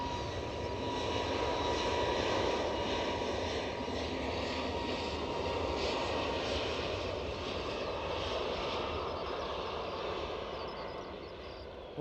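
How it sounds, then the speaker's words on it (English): An Airbus A321neo airliner at Edinburgh Airport gives off a broad, continuous engine roar that holds steady and eases slightly toward the end, heard from a distance with no voices. "So here's our A321neo."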